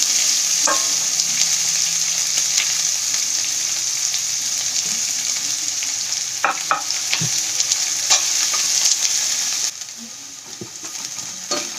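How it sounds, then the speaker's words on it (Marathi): Onions fry in hot oil with cumin and curry leaves, a steady close sizzle broken by scraping stirs and occasional clinks against the pan. "कांदा लाल होईपर्यंत भाजायचा."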